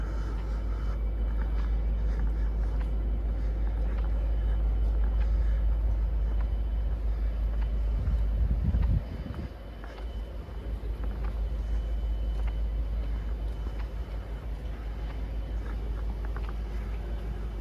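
A West Coast Railways Class 57 diesel locomotive rumbles past at a rail gathering in Derby, a steady heavy low drone with a brief louder surge midway, then a continuing engine hum.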